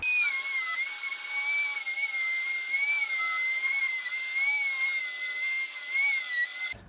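A pantograph router with a round bit cuts cedar, a steady high-pitched whine that holds at constant loudness up close for nearly seven seconds before stopping abruptly.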